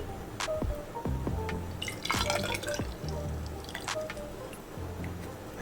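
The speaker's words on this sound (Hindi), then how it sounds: "पानी भर लेते हैं।" Water being filled into a glass measuring cylinder for a density experiment, heard as close, soft trickling and dripping with scattered small splashes against a low background hum.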